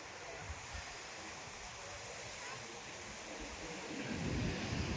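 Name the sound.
ocean waves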